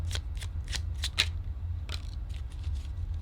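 Tarot cards being shuffled close up in a series of quick crisp riffling bursts, separated by short pauses.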